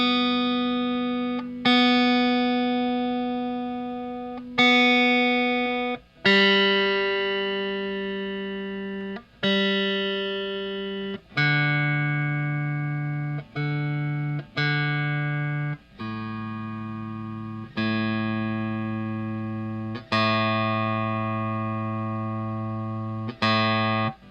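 Electric guitar with a Wilkinson locking bridge, its strings plucked one at a time for tuning, each note ringing clearly and decaying slowly before the next pluck, about a dozen in a row, close and alone.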